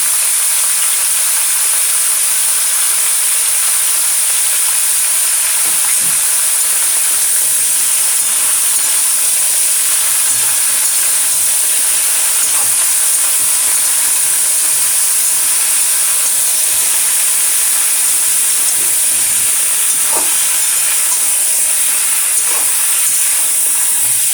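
Steady, loud hissing sizzle of onion and green chilli frying in hot oil, continuous throughout with occasional faint clinks, no voices.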